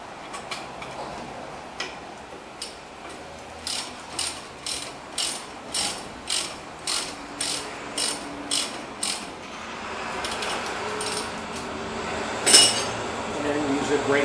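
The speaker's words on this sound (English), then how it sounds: "just tighten it up with the regular half-inch drive ratchet" Repeated ratchet clicks from a half-inch drive ratchet tightening a brake bolt on a 1998 Chevy, about a dozen evenly spaced pawl bursts at close range over quiet shop background, followed by a single sharper clank.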